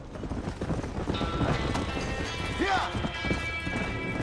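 Horse hooves clip-clop steadily at a walking pace in the Western game Red Dead, blended with game ambience and someone talking over the top throughout.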